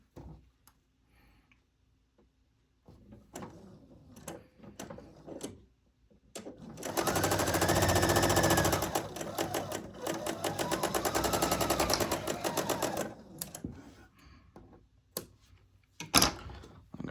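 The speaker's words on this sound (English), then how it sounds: "I'm going to sew them together right down here" A sewing machine stitches half square triangle quilt pieces together, a fast steady mechanical whir running for several seconds between scattered ticks, clicks and handling noises.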